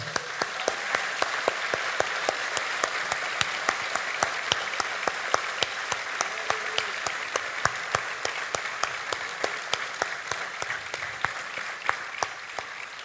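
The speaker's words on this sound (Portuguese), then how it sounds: "Vamos aplaudir o Senhor Jesus." A church congregation claps continuously for several seconds, a dense, even wash of applause with sharp individual claps standing out, and no speech over it.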